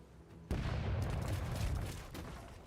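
Ship cannons in the pirate game Rogue Waters fire in a sudden loud broadside, heavy booming blasts rolling together after a brief quiet start, then fading slightly.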